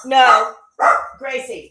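A pet dog, female, gives a quick burst of sharp yips and barks close to the microphone, three short calls in under two seconds, with a person's voice speaking to her amid the barking.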